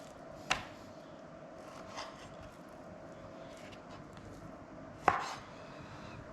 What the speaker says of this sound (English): But we'll take some of the excess off, a little bit.